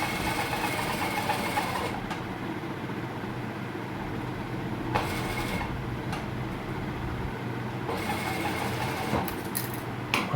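Sewing machine stitching a kameez shirt near buckram, a steady close mechanical whirr of rapid needle strokes with a few short pauses and clicks.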